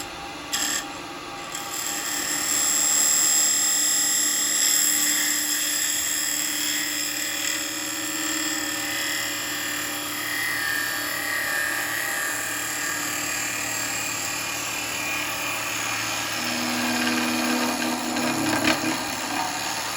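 Wood lathe spinning a bowl blank while a spindle gouge cuts into it: a steady whirring motor hum with continuous scraping, hissing tool contact throughout, rising slightly near the end.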